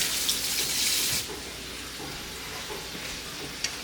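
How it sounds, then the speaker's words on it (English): A knife is rinsed under hot running water at a kitchen sink, a loud hissing stream for about a second, then quieter dripping and faint clinks as the flow stops. "With the knife, I've got to wash it down with hot water."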